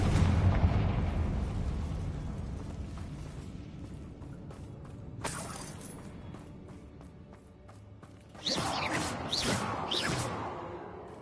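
A Confringo blasting spell in Hogwarts Legacy sets off a deep explosive boom that rumbles and fades, followed by a whoosh and then a second burst of crackling blasts, with a voice shouting briefly near the start.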